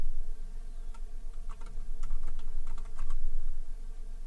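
Computer keyboard typing in short irregular bursts of soft clicks over a low steady hum, close and fairly quiet, no talk.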